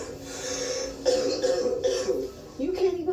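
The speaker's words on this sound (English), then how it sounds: "You can't even stop coughing." A person coughs repeatedly in rough, uneven bursts, several harsh hacks and throat-clearing sounds spread over a few seconds, close and fairly loud, with a voice mixed in.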